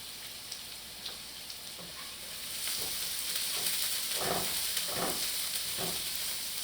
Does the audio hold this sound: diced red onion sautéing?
yes